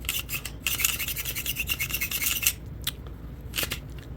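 Close gritty scraping and clicking as a dirty PSA Dagger folding knife is worked back and forth, rough crunchy rasps of grit in quick bursts with brief pauses.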